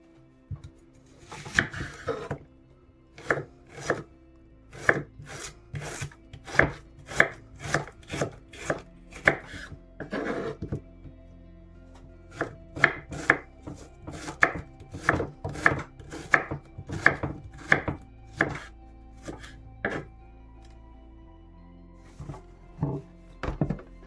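Knife chopping onion on a cutting board for a vegetable kebab gyros salad, a steady run of close, sharp wooden knocks repeating about once a second, with a few brief pauses and no talk.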